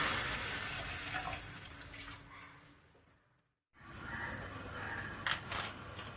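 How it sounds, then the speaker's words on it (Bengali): Water poured into a pot to make chicken stock, a close splashing stream that breaks off briefly halfway through and then resumes. "তারপরে এর মধ্যে আমি পরিমাণ মতো জল ঢেলে দেব"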